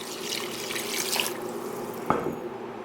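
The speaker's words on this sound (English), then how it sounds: "I'm going to go ahead and add the veg broth," Vegetable broth pours into a pot of cooked squash and carrots, making a soft continuous splashing and trickling, with a small clunk near the end and no talking.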